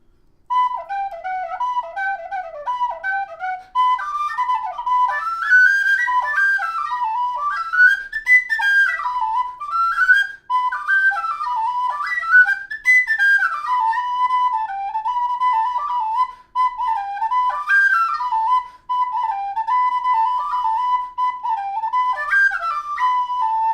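A bright, breathy tin whistle plays a lilting melody with quick runs and ornaments, solo and close, continuous for the whole stretch.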